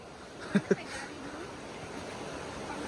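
A river waterfall gives a steady, even rush of water heard from nearby, with two brief sharp knocks near the start.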